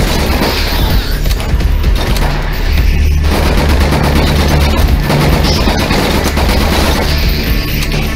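Gunfire in the horror game Nightmare House 2, loud rapid bursts of shots with booming impacts running almost continuously, dense and close.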